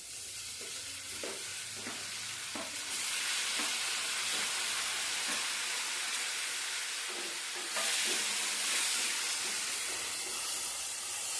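Tomatoes and green chillies sizzle loudly in a hot frying pan for an egg-tomato curry, with a steady hiss that surges when stirred, plus scraping stir strokes and light clinks, close up with no talk.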